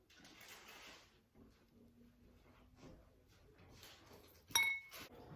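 Small heart-shaped ice cubes drop into a glass of strawberries and blueberries, giving a bright clink near the end after some quieter rustling and handling, close up and soft overall.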